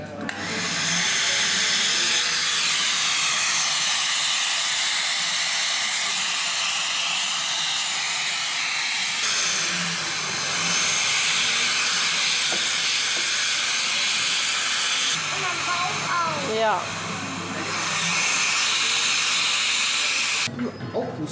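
A Build-A-Bear stuffing machine blows filling into a teddy bear with a loud, continuous air-driven whoosh and hiss that runs nearly the whole time, while voices talk over it.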